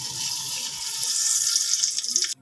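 Ghee pours into a hot, dried cooking pot with a steady broadband hiss and sizzle lasting about two seconds, fairly close and uninterrupted, cutting off abruptly at the end; no talking.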